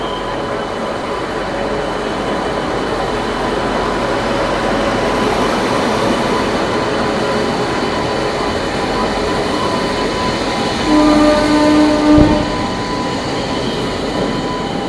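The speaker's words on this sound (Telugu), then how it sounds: "train number 12805 Janmabhoomi express departing from platform number 5" Janmabhoomi Express rumbles steadily as it pulls away from a platform at Visakhapatnam, wheels and carriages droning nearby, with a brief squeal of metal near the end.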